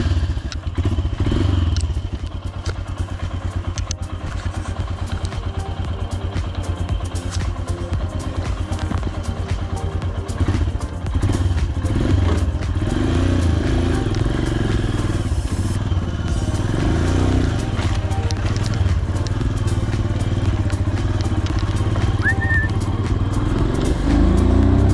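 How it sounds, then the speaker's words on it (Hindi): A Royal Enfield Himalayan motorcycle engine runs steadily, a loud low thumping idle with rattles and clatter over it, continuous and close. "Royal Enfield Himalayan. Tyre condition अच्छा है, स्मोक भी विजिबल नहीं है, मतलब इंजन भी सही है"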